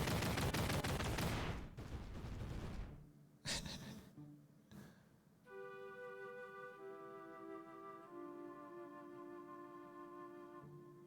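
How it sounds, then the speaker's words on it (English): A cannon in a game in development fires with a sharp burst, and a second and third shot follow over about five seconds. A softer tonal game sound carries on after them. "This is my cannon."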